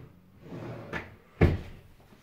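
A bathroom drawer in a modern two-bedroom studio apartment, heard as two quick clunks: a lighter slide-knock and then a louder, fuller thud about half a second later, close by in a quiet room.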